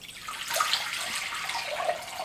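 Warm water, about 37 degrees, poured steadily from a container for activating yeast in pine bark bread, a continuous close splashing stream without talk.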